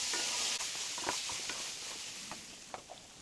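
Turmeric powder and cumin paste sautéing in a pan over a low gas flame, a soft steady sizzle with faint scattered scraping and stirring taps, quiet and close.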